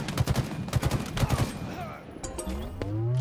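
Rapid automatic gunfire in Halo Infinite multiplayer, bursts of sharp repeated shots for about a second and a half, then lighter shots and electronic game sounds.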